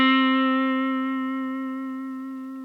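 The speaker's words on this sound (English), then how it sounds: "The other half of what we were talking about is slow vibrato" A single sustained musical note with a bright, harmonic-rich tone wavers slowly in pitch, fading gradually over nearly three seconds with nothing else heard.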